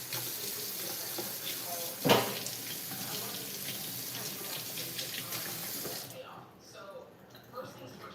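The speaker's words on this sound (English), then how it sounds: "gotta wash off my cutting knife." A cutting knife is washed under a running kitchen tap, a steady close rush of water with a brief splash partway through, before the flow shuts off near the end.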